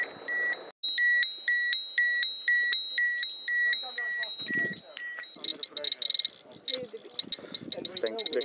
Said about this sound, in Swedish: Lyckades jag stänga av larmet där.